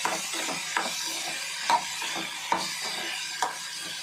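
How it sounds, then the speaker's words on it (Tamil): Green chilli and small onions are sautéed in a pan, with a soft continuous sizzle under repeated scraping stirs and a few sharp clinks of a spoon against the pan, close up and with no talk. "எல்லாம் போட்டு நல்லா வதக்கலாம்"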